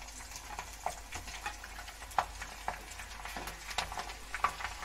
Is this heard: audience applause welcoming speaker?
no